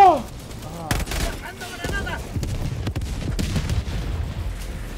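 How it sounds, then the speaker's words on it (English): A grenade explodes in a video game, a loud blast followed by a rapid crackling cascade of secondary bursts and rumble, with excited voices over it. "All that was one grenade?"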